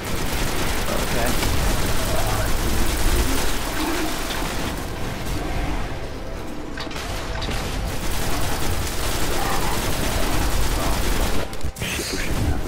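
Sustained gunfire and explosions fill a Destiny firefight, dense, loud and continuous throughout with brief dips, while voices talk underneath.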